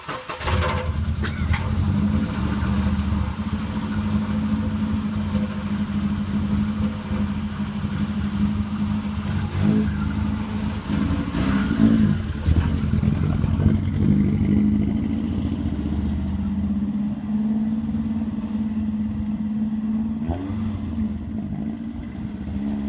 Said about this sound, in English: So start up the car